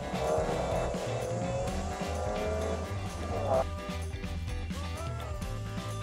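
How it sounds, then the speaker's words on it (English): A car drives with squealing tires, a continuous engine roar overlaid with shrill skidding tones across about six seconds, fairly close. "Car."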